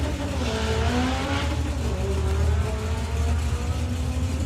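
Audi drag car in the 4-cylinder class launching hard off the line with front wheels lifting, a loud sustained engine roar near and steady across the run, no talk.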